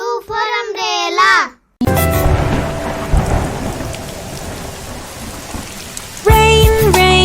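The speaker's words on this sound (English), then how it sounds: "Rain, rain, go away" Heavy rain with thunder, a loud, dense, continuous roar of rainfall and rumbling, alone for several seconds between bursts of children singing before and after.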